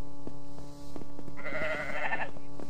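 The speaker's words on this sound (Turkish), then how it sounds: "Bu koyun farklı meliyor." A sheep bleats in the game The Anomaly Project, one drawn-out wavering bleat, fairly close and clear, over a steady droning background with faint periodic ticks.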